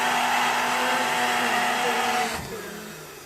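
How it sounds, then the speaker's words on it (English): An electric blender whirs loudly and steadily while blending coconut with water, its motor winding down abruptly near the end and spinning to a stop. "Blender sudah. Blend 1 minute."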